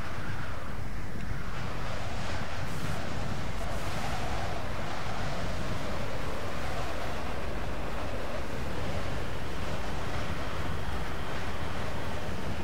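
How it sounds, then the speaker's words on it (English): Wind on a planet in the video game Mass Effect: a steady, loud roaring gust that fills the whole stretch without pause, broadband and rushing, with no talk over it. "It's so damn windy on this planet."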